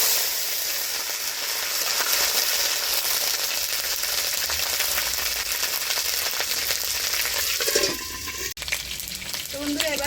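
Ginger paste frying in a hot pan, a loud, dense, continuous sizzle that drops off sharply near the end, leaving quieter crackle.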